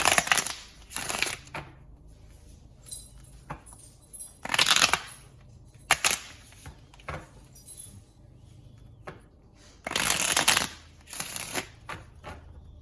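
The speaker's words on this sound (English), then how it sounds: "So let's pull you some more tarot, and then we will look at your fortune cards." Tarot cards are shuffled in a few separate bursts of riffling and rustling, close and crisp, with quiet pauses and small handling taps between them.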